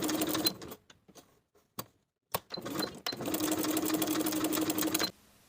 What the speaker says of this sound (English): Edge stitch along both long edges.